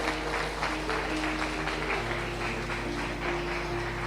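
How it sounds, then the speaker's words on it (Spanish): Church congregation applauding during a Sunday service, an even wash of clapping heard from a little distance with a sustained organ or keyboard tone holding underneath. "Dale un fuerte aplauso al que vive."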